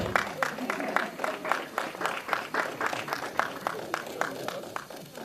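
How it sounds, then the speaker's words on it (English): Modest applause at an awards ceremony as a presenter for the Arts, Culture and Tourism award walks up, a steady patter of claps at moderate distance, fairly faint and even throughout. "Please give him an applause as he comes up."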